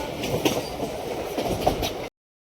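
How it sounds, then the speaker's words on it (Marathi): A freight train passes nearby, its wagons producing a loud, steady rumble with rhythmic clattering wheel beats before the sound cuts off abruptly. "सो इकडे अशा काहीतरी ट्रेन जात आहेत. काय मालगाडी वगैरे काहीतरी आहे."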